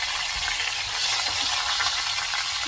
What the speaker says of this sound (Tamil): சீரகம் பொரிஞ்சதும் நம்ம மிளகு ஆட் பண்ணிக்கலாம்.